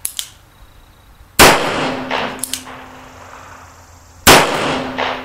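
A Nagant M1895 revolver fires original Russian ammunition outdoors, two sharp, loud gunshots about three seconds apart, each trailing off with echo.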